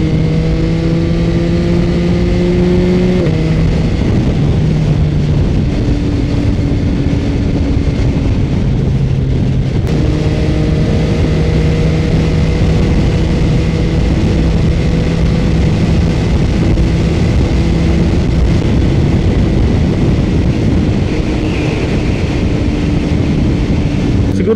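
A Yamaha XSR900 motorcycle's engine drones steadily while riding, with harmonic pitch steps as gears change, all under a constant loud rush of wind noise with no talking.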